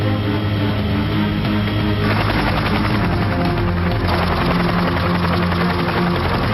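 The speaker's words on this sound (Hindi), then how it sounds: "हेलीकॉप्टर आ रहा है।" A helicopter nearby, loud, continuous rotor thudding and engine whine with a steady rhythmic chop, holding close and strong throughout.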